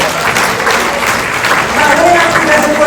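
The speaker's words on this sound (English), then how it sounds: "Can you give a round of applause?" A room of business meeting attendees gives a loud, continuous round of applause, dense clapping with some crowd noise and voices mixed in, holding steady throughout.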